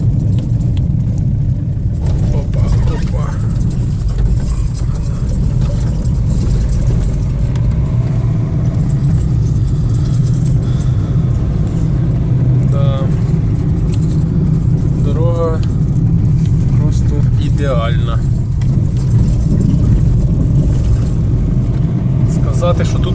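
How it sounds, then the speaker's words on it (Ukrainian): Cars drive over deep potholes on a badly broken road leading onto an overpass, a loud, constant rumble of engines and tires with a few louder passing vehicles, while people talk over the traffic throughout. "Дивимося, як ниряють машини. Як на естакаду заїжджають."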